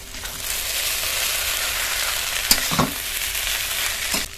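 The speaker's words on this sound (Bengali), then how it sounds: "মশলা দিয়ে চাউমিনটা 2 মিনিট ভেজে নিয়েছি" Chow mein noodles with fried egg and Maggi masala stir-frying in a pan, a dense steady sizzle with a few scraping and tossing knocks of the spatula, close and loud, no speech.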